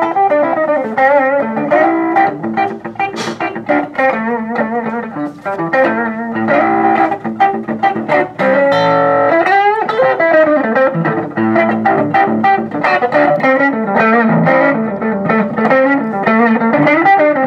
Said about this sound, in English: Now, we have the full moon distortion.